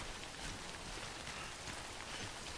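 Heavy rain in Death Stranding pours down in a dense, constant hiss of drops, steady and enveloping with no pauses.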